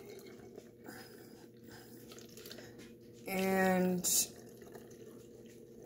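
Tamarind soda poured through a funnel into a bottle, a short burst of rising liquid gurgle lasting under a second, then a brief splash, with quiet room noise and light talk around it.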